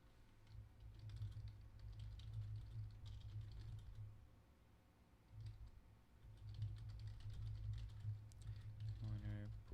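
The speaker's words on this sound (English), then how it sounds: "I don't know how loud my keyboard is." Someone types on a computer keyboard in quiet bursts of soft clicking, pausing briefly midway, with low background hum.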